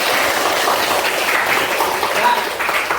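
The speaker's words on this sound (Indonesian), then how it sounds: "Baik, tepuk tangan yang meriah untuk kita semua." A class of students applauding, steady loud clapping throughout with no pauses, close and full.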